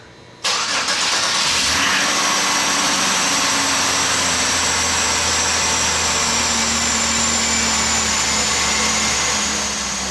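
A car engine catches after a brief crank and settles into a steady, loud idle that carries on unbroken during a fuel pump test.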